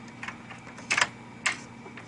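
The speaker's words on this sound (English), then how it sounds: "It'll still click back into play. That noise might sound familiar to you." A Xerox ColorQube 8570/8580 printer ink stick clicks into place: a few sharp plastic clicks, the loudest pair close together near the middle and another a moment later, against a quiet machine hum.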